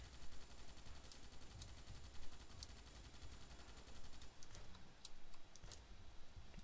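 Rapid gunfire from a Starship Troopers video game, with sharp repeated shots crackling over a dense, busy low rumble, bursts clustering toward the end.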